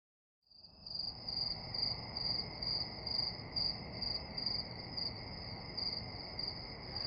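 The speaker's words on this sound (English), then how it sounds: "I wake up to the weary voices of the crickets and the frogs." Crickets chirp at night in a steady, dense pulsing trill that starts abruptly and carries on loud and close, with no voices.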